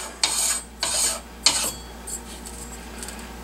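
A barrel shroud being threaded onto a Saiga 12 shotgun gives a few close metallic scraping and clinking bursts that fade into quiet, fainter rubs, with no voices.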